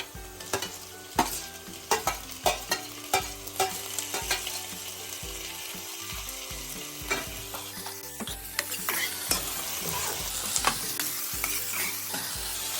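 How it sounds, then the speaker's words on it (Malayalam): Chopped tomatoes stirred into a sizzling pan while cooking a squid roast: steady close frying hiss with repeated spoon scrapes and taps against the pan, no voices. "നമുക്ക് അരിഞ്ഞ് വെച്ചേക്കുന്ന തക്കാളി ചേർത്ത് കൊടുക്കാം"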